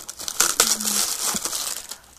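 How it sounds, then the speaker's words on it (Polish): Loose plastic shrink-wrap foil crinkling and crackling up close as it is peeled by hand off a game box, in quick irregular rustling bursts. "Przepraszam za czyszczenie folii."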